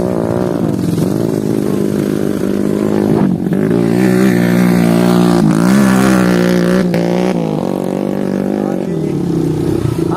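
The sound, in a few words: motorcycle riding on muddy road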